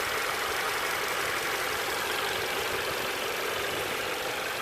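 Steady idle of a 2017 Audi A3's five-cylinder TFSI engine, a continuous even hum with broadband hiss heard close up, with no talking over it.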